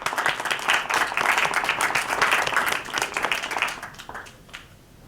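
Applause from a poetry slam audience after the judges' scores are read, dense and steady for about four seconds before thinning out and fading.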